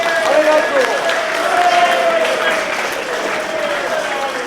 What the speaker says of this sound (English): So everyone, round of applause for yourselves